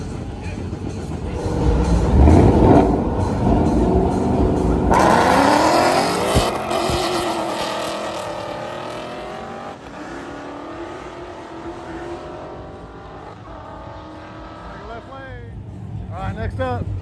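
Naturally aspirated Ford Mustangs run at a drag strip, the engines roaring loud as they launch, then revving and fading into the distance with some tire noise, while someone talks over the racket throughout.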